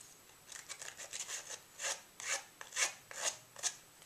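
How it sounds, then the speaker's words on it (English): Paper edges being roughed up with an edge distressing tool, a steady series of close, dry scraping rasps in quick rhythmic strokes, growing slightly louder toward the end. "Rough up the edges."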